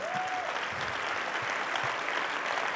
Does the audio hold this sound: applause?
yes